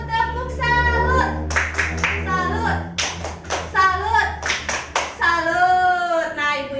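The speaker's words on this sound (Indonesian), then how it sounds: "kita kasih tepuk salut dulu ya ibu-ibu" Group of women at an Indonesian community training session doing a rhythmic patterned cheer clap, loud and close, with chanting voices and music-like tones running through the claps.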